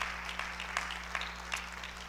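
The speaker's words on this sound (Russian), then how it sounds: "Церковь, давайте громкими-громкими аплодисментами" Church congregation clapping during a Sunday service, a soft, steady spread of applause with a few sharper claps standing out, over a low constant electrical hum, fairly faint and distant.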